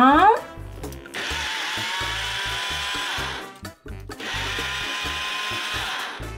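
A blender motor whirs loudly in two long stretches, pausing briefly in between, with thumping music underneath.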